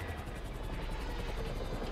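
Helicopter in the video game GTA 5, a steady loud rotor drone with low thumping chop throughout, no talk.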